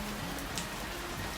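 Steady rain falling outdoors over a vegetable garden with patola gourds, a dense, even patter and hiss close by that continues without a break.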